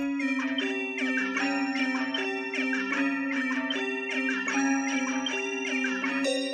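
Two layered Sytrus synth patches in FL Studio, one panned hard left and one hard right, play a steady bright chordal melody with a sustained low line beneath, continuous and loud without any talking.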